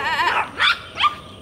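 A puppy barks in three short, sharp bursts spaced about half a second apart, close and fairly loud, with a slight whiny edge at the first and no talking.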